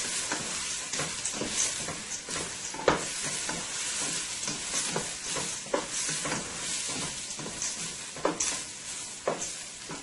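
Jeera sizzles in hot oil in a pan while being stirred, a steady close frying hiss broken by frequent scraping and clinking strokes of the spoon, with no talk.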